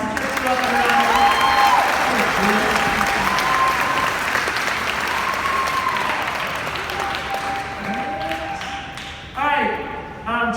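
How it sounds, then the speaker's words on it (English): A large crowd applauds steadily at a high school sports awards ceremony, a dense, sustained wash of clapping from many hands that fades slightly before a brief louder burst near the end, with voices mixed in. "So I know most of you guys know Chris, so give him a round of applause."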